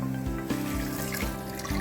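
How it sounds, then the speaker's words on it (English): Water being poured into a pressure cooker holding chana dal, a short, close, steady splashing fill with faint rhythmic knocks. "I am adding the water."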